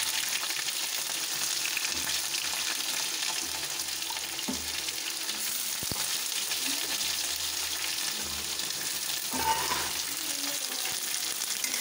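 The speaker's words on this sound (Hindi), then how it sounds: "अब हम कटा हुआ प्याज डाल देंगे।" Chopped onions frying in a pan with red and green chilies, a steady close sizzle with occasional stirring clatter throughout, no voices.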